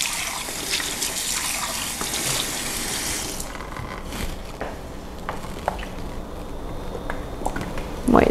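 Water pours in a home kitchen during meal prep, a loud, close gush for several seconds that fades to a quieter trickle with small drips and clinks.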